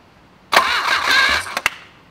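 An outboard boat engine under restoration after an ignition fault cranks briefly and catches, giving a loud, close whirring roar for about a second before a couple of sharp knocks and a sudden cutoff.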